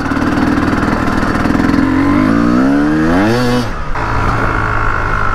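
A 2020 Yamaha YZ250X two-stroke dirt bike revs hard from a steady drone, pitch climbing rapidly through a rising whine before cutting back sharply and settling into a steady higher-pitched run, loud and close with no talking.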